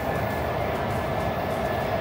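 A Washington DC metro train gives a steady, dense rumble with a broad roar, loud and continuous throughout, with no clear talk over it.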